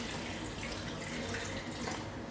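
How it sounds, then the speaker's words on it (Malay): Water poured into a pot of mutton dalcha, a continuous close splashing stream with no pause. "sekarang kita nak masukkan air. Kita masukkan air."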